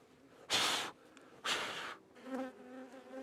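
A tiny honeybee colony in a bird box; two loud broad rushing bursts are followed by a fainter, wavering buzz, close by with no speech.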